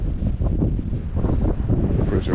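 Strong gale-force wind buffets the microphone at a stillwater trout fishery in the UK, a loud, continuous low roar with gusting swells and no pauses.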